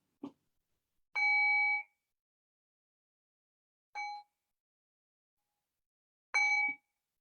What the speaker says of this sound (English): I'll ring the bell and I'll bring us back into a conversational space.